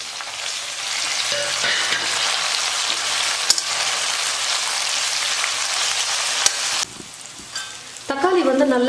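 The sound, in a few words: sautéing chopped tomato with onions in a pan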